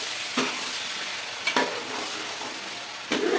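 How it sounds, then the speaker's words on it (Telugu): Chicken pieces fry in hot oil for biryani with a loud, continuous sizzle up close, and three sharp scraping strokes from stirring stand out against it. "నేను చికెన్ పీసెస్ అన్నీ వేసాను ఒకసారి వేయించాను కదా ఆయిల్లో"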